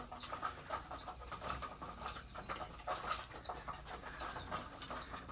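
Pigeons coo softly near their chicks, with bursts of wing flapping and high, thin cheeping calls repeating throughout at a modest, close level.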